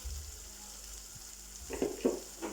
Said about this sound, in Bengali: তারপর নেড়ে নিলাম।